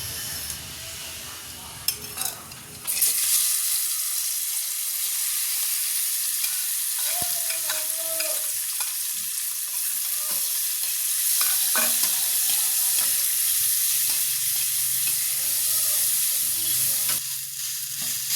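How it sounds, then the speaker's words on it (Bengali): Boiled, deseeded amla gooseberries are dropped into hot oil for homemade amla pickle and stirred, giving a loud steady sizzle with occasional spoon scrapes and clinks, close by, after a few seconds of quieter handling. "এবার এই সিদ্ধ করা আমলকিটা তেলের মধ্যে দিয়ে দেবো।"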